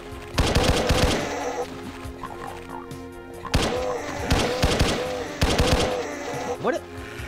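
Bursts of rapid automatic gunfire from the video game Doom rattle in several volleys separated by short pauses, loud and close, with a voice murmuring faintly between them.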